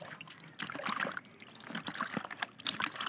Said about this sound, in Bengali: এগুলো মাছ ধুয়ে নিচ্ছি